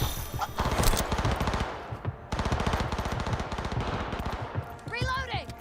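Rapid automatic gunfire during a firefight in the Cyberpunk 2077 video game, loud dense bursts of shots in two long volleys separated by a short gap, followed by a trailing whooshing sweep near the end.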